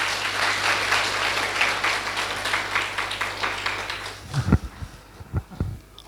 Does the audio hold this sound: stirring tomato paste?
no